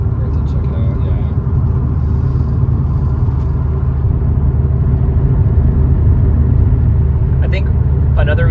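Tuned Subaru WRX with boost drives along steadily, its engine a continuous low rumble heard from inside the car while people talk over it.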